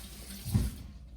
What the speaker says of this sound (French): Je me relave les mains d'ailleurs là maintenant.